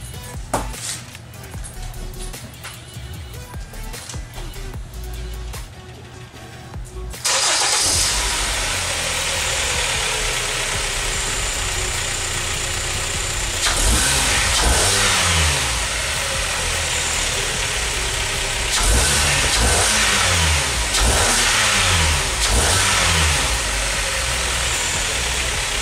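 A Kia Sorento engine fresh from an oil change with a K&N filter fitted starts up and settles into a loud, steady idle, then revs rise and fall a few times, close to the engine bay.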